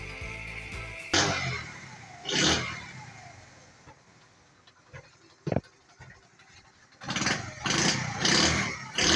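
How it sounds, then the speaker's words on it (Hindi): A CD70 motorcycle, just repaired for a vibrating meter, is started and run: a few short engine bursts and revs, a quieter stretch with a sharp knock, then louder sustained running toward the end, with no talking. "अभी हम मोटरसाइकिल को स्टार्ट करेंगे"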